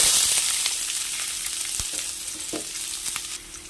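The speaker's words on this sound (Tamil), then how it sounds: "ரெண்டு மீடியம் சைஸ் வெங்காயத்தை பொடியாக கட் பண்ணி வச்சுருக்கிறேன் அதையும் ஆட் பண்ணிக்கிறேன்" Chopped onions frying with lentils in a pan give a steady, close sizzle with occasional stirring scrapes and clicks, no voices.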